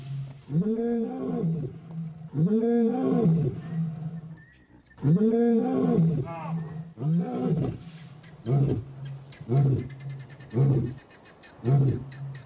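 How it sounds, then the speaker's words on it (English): Lions in the bush roaring in displeasure, a series of deep, loud, close roars followed by a rhythmic run of shorter grunting calls, with no talk. "And as they roar their displeasure, the cubs scatter into the bush"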